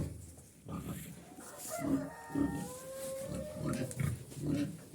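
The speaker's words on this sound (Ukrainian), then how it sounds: "Поросята знов поїли. Пішли під лампу." Piglets in a pigsty under a heat lamp, with soft grunts and snuffles repeating through the scene, fairly close but not loud, alongside faint rustling and a distant rooster-like call.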